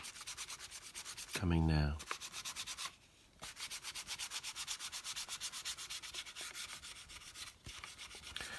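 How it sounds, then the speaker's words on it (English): Polishing the surface of a 1:72 Airfix Boeing B-17G Flying Fortress plastic model, close repeated rubbing strokes in a quick even rhythm with brief pauses and one louder scrape, a single spoken word briefly over it. "as polishing the surface even more"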